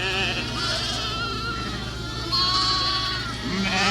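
A flock of hair sheep, many shedding their coats, bleats over a dense, continuous farmyard din as the large group is moved past mud.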